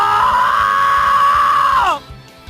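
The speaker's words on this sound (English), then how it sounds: "I let out a futile hollow scream." A long, loud, sustained scream from a character in the visual novel Dies irae, holding steady for nearly two seconds before breaking off abruptly.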